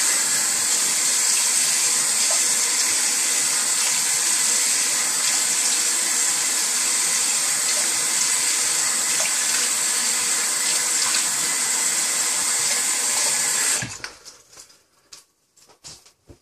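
Tap water runs steadily into a sink as a shaving brush gets its final rinse, a loud, continuous close-up hiss that stops abruptly near the end, leaving a few soft drips and handling sounds.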